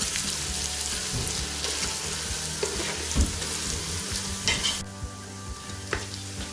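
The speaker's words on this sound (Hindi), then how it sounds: "अब साथ ही जो खड़े मसाले हैं वो भी इसमें ऐड कर देंगे, ताकि ये भी लहसुन अदरक के साथ" Whole spices frying in oil with garlic and ginger for beef paya, a steady close sizzle with stirring scrapes and utensil clinks throughout.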